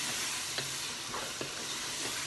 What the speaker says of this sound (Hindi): गरम मसाले डाल के तकरीबन 1 मिनट के लिए इनको भूनें।